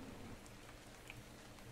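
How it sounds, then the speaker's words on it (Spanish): Steady soft rain falls in the video game ARK, a continuous even patter with a faint low hum underneath and no voices. "Está lloviendo, eso le confundirá."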